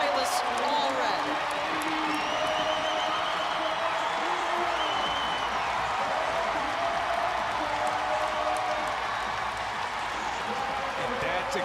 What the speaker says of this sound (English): Thunderous applause for Silas Allred.